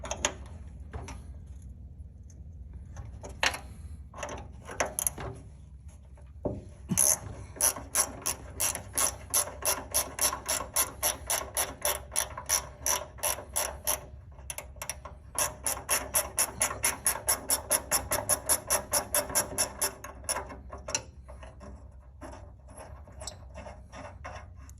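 A ratchet clicks in quick repeated bursts while a ball stud is backed off a Club Car DS golf cart pedal linkage, close and fairly quiet, with steady pawl ticking over the final stretch.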